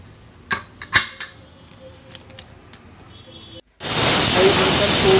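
Pressure cooker with mutton sambar inside lets out a loud, steady steaming whistle that cuts in and holds for over a second, after a few clinks of utensils in a home kitchen.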